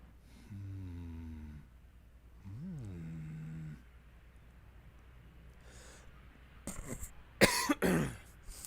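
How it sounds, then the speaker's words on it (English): A person coughs in a cluster of sharp, close bursts near the end, following quiet stretches of tonal, droning video-game sounds from Dark Souls 3. "I was needing to cough all the way through that"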